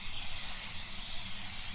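Spray paint can hissing in a video game, a steady continuous spray with no breaks, fairly loud and heard alone.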